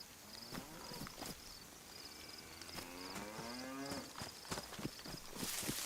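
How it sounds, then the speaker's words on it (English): Cows lowing as they cross a bridge in DayZ on the Livonia map, drawn-out moos overlapping with scattered hoof clops, moderately near and fairly quiet. "The cows crossing using the bridge."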